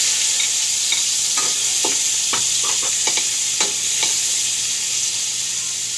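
Garlic and broccoli frying in a pan, a constant loud sizzle with scattered clicks and scrapes of stirring throughout, no voices.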